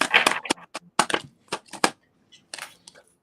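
Tarot cards shuffled noisily by hand, a quick series of sharp riffling snaps and rustles in irregular bursts, close and dry, growing sparser toward the end.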